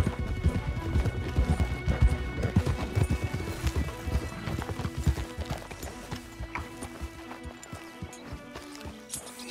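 Horses galloping in Red Dead Redemption 2, a steady, dense clip-clop of hooves, loud and close, with a brief whinny near the start and no talking.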